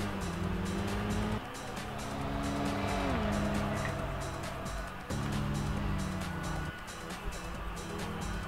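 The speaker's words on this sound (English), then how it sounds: "I want to see that drift at the end." Cars in the racing game Kaido Racer 2 drift with tire squeal, a sustained engine drone bending in pitch through the slide and rising whine, loud and close, with a brief break midway and no talk.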